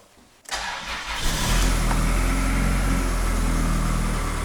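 Chrysler Voyager engine after a timing belt replacement, cranking briefly from near silence, catching, then settling into a steady, loud idle close by.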